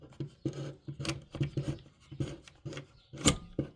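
A Yankee screwdriver backs out a screw in a series of short, dry ratcheting scrapes and clicks in an uneven rhythm. The sounds are close but quiet, with no talking.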